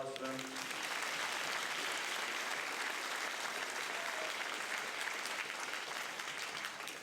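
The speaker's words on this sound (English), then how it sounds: "Round of applause for them." An audience applauds at a high school academic awards assembly, sustained clapping from a large crowd that fills the hall for several seconds and tapers slightly at the end, with a brief voice at the start.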